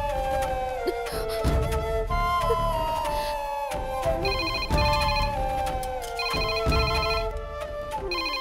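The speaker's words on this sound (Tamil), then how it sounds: "மா போன் அடிக்குது பாருமா, போய் எடுமா." A mobile phone ringtone plays loudly and steadily for the whole stretch, a repeating melodic tune with bright pulsing chime notes, alone with no talk over it, in a Tamil drama scene.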